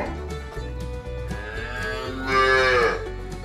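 A farm cow moos in a deep, drawn-out call that swells louder near the end, heard up close over a low rumbling background with no talk.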